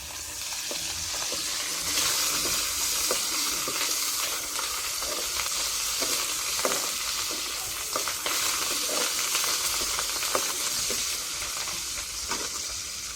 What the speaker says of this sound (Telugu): కరివేపాకు రెండు రెమ్మలు అవి కూడా వేసుకొని కలుపుకుందాం ఇప్పుడు